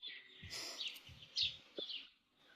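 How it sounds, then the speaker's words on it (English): Faint bird chirps and tweets, thin and intermittent, with a few soft low thumps in between. "I hear the birds chirping quite loud."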